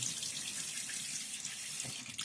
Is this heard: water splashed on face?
yes